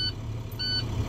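A semi truck's low air pressure warning beeping after the engine is started, giving two short, moderately loud high-pitched beeps over a steady low engine idle.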